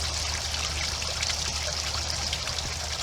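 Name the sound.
pond fountain water flowing from pump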